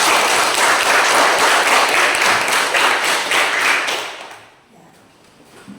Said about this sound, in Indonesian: mari berikan dulu tepuk tangan untuk kalian sekalian